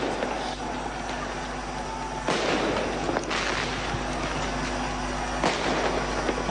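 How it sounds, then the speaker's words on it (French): Ceremonial cannon shots at a presidential arrival at the palace boom at a distance, a few heavy blasts spaced seconds apart over a constant crowd and outdoor background. "On voit les coups de canon qui sont en train d'être tirés."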